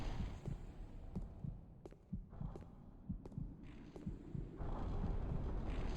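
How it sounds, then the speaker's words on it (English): Slow, heavy heartbeat effect from a video game, a regular series of deep double thumps under a low rumbling hum that swells louder toward the end. "the heartbeat sound is also making my controller vibrate with it"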